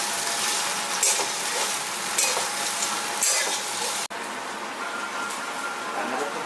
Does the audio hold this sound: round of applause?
no